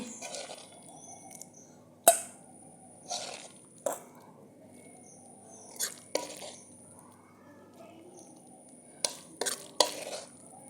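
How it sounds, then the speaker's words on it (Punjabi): A few scattered clinks and scraping knocks of a utensil against a pot or dish as sweet pasta is scooped out, spaced apart over a quiet background. "ਹੁਣ ਆਪਾਂ ਭਾਂਡੇ 'ਚ ਕੱਢ ਦੇਾਂਗੇ"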